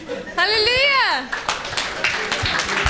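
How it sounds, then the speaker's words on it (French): A church congregation claps for Jesus in a burst of scattered, lively hand claps after a loud, rising sung or shouted voice, with other voices and cheering mixed in. "Let's clap for Jesus"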